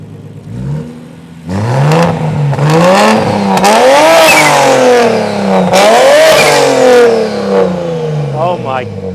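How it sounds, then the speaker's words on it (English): A tuned BMW engine with a huge turbo revs loud and close in repeated climbing pulls that rise and fall over several seconds, with voices talking over it. "Can we hear it? Give it a little rev for you."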